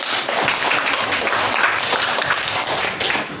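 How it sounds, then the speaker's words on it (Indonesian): Classmates in a school classroom clap for a student, a dense, even crackle of many hands held at a steady level for a few seconds before fading slightly, with faint voices underneath. "tepuk tangan buat Queen."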